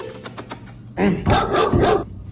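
A pit bull barks loudly and close by in a burst of several rough barks, following a few fainter yips and background noise.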